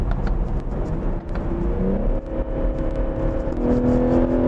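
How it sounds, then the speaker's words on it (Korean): A BMW M340i xDrive Touring wagon's engine hums and rises in pitch as the car accelerates on the road, a deep steady drone with smooth rising tones and tire rumble inside the cabin, no talking over it. "약간 굵은 엔진 사운드를 듣게 되는데요."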